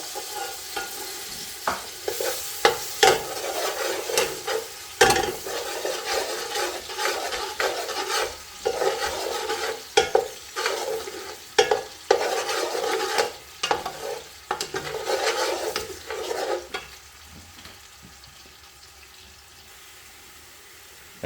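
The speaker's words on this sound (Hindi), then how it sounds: "अदरक लहसुन को भूनते हुए 2 से 3 मिनट हो गए" Ginger garlic paste fries in a pan while being stirred, soft sizzling broken by scraping stir strokes and occasional clatter, with a brief running-water sound, no talking.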